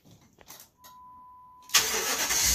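A 2006 Dodge Dakota with the 4.7L engine cranks and fires, a faint key-on chime tone preceding a sudden loud start that settles into a steady close idle.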